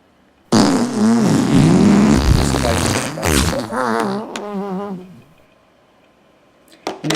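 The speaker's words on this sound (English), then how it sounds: "is the shorter and sweeter fart" A loud, drawn-out synthetic fart blares from a phone prank app: a long, wet, sputtering blast that tapers off into silence, ending with a brief click.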